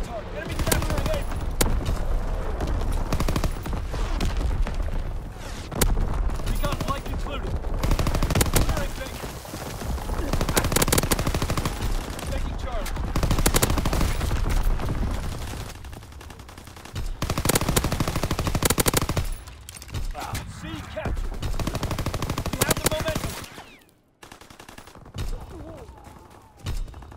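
Rapid machine-gun bursts and rifle fire from Call of Duty rattle almost without pause over a long stretch, joined by heavier thuds of artillery. Loud, layered battlefield noise fills the whole clip, with brief lulls and some voices in the mix.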